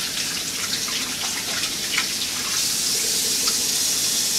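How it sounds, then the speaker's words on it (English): Hands being washed under a running kitchen tap, a steady close splashing stream with small irregular spatters, no voices. "So let me go ahead and wash off."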